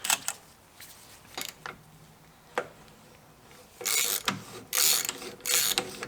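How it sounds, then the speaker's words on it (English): A spanner nut on a Toyota Land Cruiser front axle being loosened and tightened during a rebuild, heard as short bursts of ratcheting clicks and scraping metal, sparse at first, then louder and longer runs close by. "going to back off this spanner nut here on my left and tighten one on the right"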